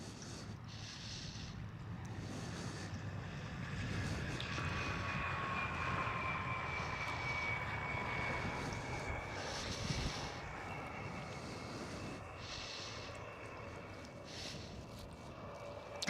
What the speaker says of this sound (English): first one up after the runway inspection is a KLM Cityhopper